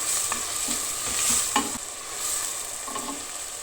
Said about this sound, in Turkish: Soğanı karıştırıyoruz.